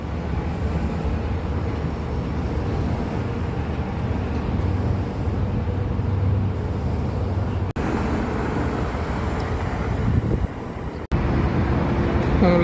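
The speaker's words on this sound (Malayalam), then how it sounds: "ദുബായിൽ മറീനയിൽ ട്രാമാണ് പോയിക്കൊണ്ടിരിക്കുന്നത്." A Dubai tram passing along its track in Dubai Marina, a steady broad rumbling roar that stays loud throughout, mixed with surrounding city traffic noise and two brief clicks.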